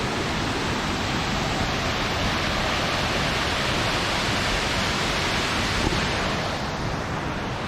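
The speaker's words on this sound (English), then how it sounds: "Lovely to see these waterfalls in full flow, how they should be." Mountain waterfalls at Langdale Pikes in full flow after heavy rain, a dense, steady roar of rushing water that stays loud and unbroken throughout.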